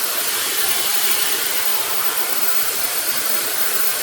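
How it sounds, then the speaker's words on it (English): A negative ion hair dryer runs through a diffuser attachment, giving a loud, close, continuous airy whoosh with a steady motor hiss and no break or speech. "let me show you how the diffuser works. This just diffuses the air so it's not blowing out real strong."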